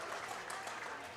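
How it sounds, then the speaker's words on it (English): Soft, quiet clapping from a small audience at a powerlifting meet, a continuous patter of light claps at low level throughout. "very quietly clapping."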